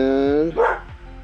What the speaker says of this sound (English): my dog's barking, sorry about that.